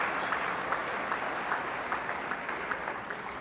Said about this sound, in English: So a round of applause for me.